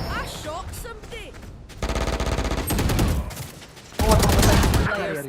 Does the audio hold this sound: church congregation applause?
no